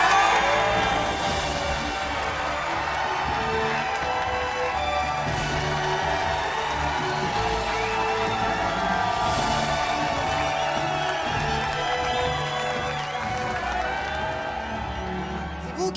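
A Vosges village crowd cheering and applauding in celebration of a rebuilt family home, a steady, loud wash of clapping and voices, sustained for the whole stretch with a music-like bed underneath.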